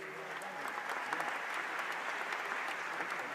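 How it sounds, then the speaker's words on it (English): An audience at CES 2012 applauds Kelly Clarkson's live appearance, a steady, fairly faint wash of many hands clapping from a crowd, with no voices over it. "You can give her a round of applause for that."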